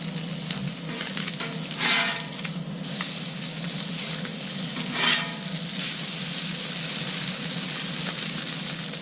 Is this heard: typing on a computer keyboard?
no